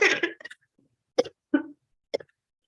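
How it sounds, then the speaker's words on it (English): A person coughs several times in short, separate bursts, one rough cluster followed by three sharp single coughs spaced apart in quiet, fairly close but not loud. "I hope this is not being recorded with me coughing."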